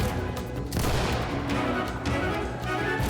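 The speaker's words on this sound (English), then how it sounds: "I round the stairs heading upwards and launch a flashbang above." A flashbang grenade in Ready or Not goes off aboard a ship with a loud, dense burst and crashing blast that fills the whole stretch, rumbling noise continuing after the main bang.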